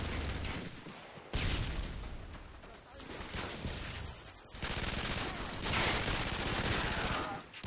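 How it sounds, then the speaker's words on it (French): Machine gun and assault weapon fire in a Call of Duty: Modern Warfare 2 multiplayer match, coming in several bursts of rapid shots separated by brief pauses, with a heavier sustained volley near the end. "Le gars, il s'éclate à la sulfateuse ou la mitrailleuse."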